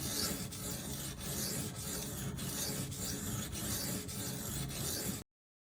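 A knife is stroked back and forth across a Venev diamond sharpening stone in about nine even, rhythmic rasping passes, close and clear, before cutting off to silence.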